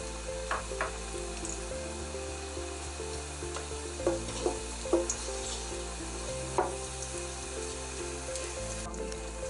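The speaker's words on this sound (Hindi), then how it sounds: "तेल गरम हो गया, इसमें अब डालेंगे साबुत गरम मसाला" Whole garam masala spices sizzling in hot oil for a bell pepper and spring onion chicken curry, a soft steady frying hiss with a few small crackles and pops, close and fairly quiet with no talk.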